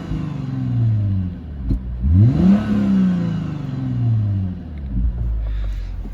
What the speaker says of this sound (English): let me give you guys a quick little rev